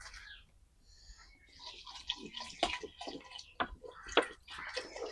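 Water is poured into a pot of dal with taro root before pressure cooking, quiet uneven splashes and small clinks close by.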